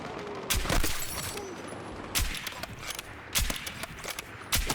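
Sniper rifle shots in Battlefield's Breakthrough mode on Mirak Valley, about four loud sharp cracks spaced a second or so apart over steady game ambience and distant battle noise.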